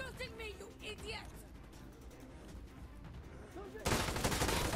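Gunfire in the tactical shooter Insurgency Sandstorm, with rapid bursts of automatic shots under excited talking from players, growing into a loud dense burst of fire at the end.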